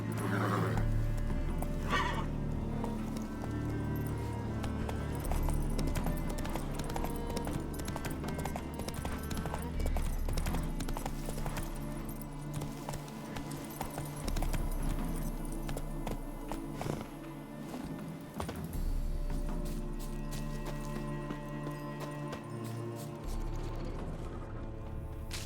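Roach, the horse in The Witcher 3, gallops with steady rhythmic clip-clop hoofbeats and an occasional neigh, loud and continuous under a dense game soundtrack with no speech.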